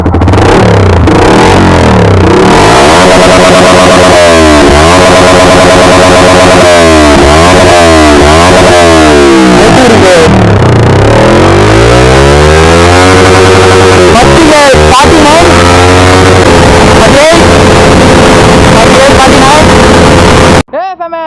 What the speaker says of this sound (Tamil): இதோட எக்ஸாஸ்ட் நோட் கேட்போம்